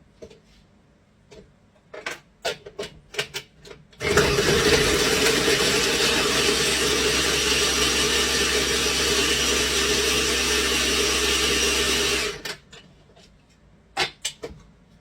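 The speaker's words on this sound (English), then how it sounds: "This best little food processor, it grinds it up in the perfect size." A small food processor grinding a block of cheese, its motor starting abruptly and running loud and steady for about eight seconds before cutting off, with sharp clicks and knocks before and after.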